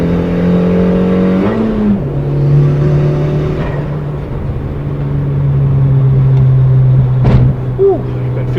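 Boosted Suzuki Swift Sport ZC31S pulling hard in third gear on a bumpy highway, a loud steady engine drone climbing in pitch with a brief shift-like dip early on, heard from inside the car.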